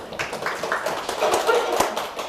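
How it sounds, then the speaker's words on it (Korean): A lecture audience claps in a loose, irregular patter of scattered hands, fairly close and moderately loud, with a few louder individual claps over a short stretch. "박수 한번 쳐주시고"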